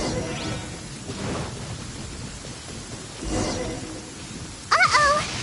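A thunderstorm rolls through a Genshin Impact game scene with rain hissing throughout and deep thunder rumbles swelling twice. A brief higher-pitched call cuts in near the end.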